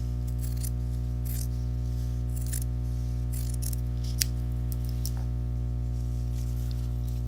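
Scissors snip apart a quilt block for a star pattern, with several crisp cuts in uneven bursts close by over a constant loud electrical hum.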